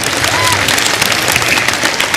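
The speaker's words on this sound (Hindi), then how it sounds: "अपने लिए भी तालियां बजा लीजिए आप लोग सबके सब यार." A large audience clapping at an event in India, a dense, continuous wash of applause close by with crowd noise mixed in, sustained throughout without pause.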